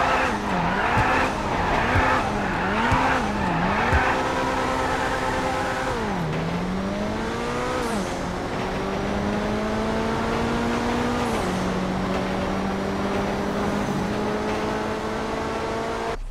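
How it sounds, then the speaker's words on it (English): The Coquette D10 sports car engine in GTA Online revs up and down through gear changes, with tire skids and squeals, loud and continuous throughout. "I'm going to talk about the sound of the car."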